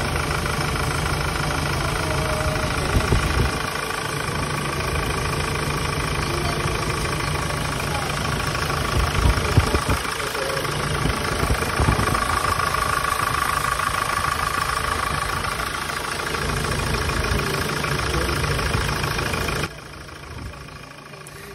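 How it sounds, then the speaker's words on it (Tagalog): A Hyundai Starex with a D4CB diesel engine idles steadily after starting, a close, loud clattering diesel rumble with knocking ticks throughout, while someone talks over it before the sound drops off near the end. "napaandar na nga po natin itong makina"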